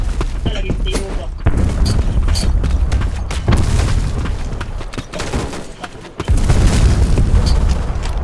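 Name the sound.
grenade explosion in the video game Black Squad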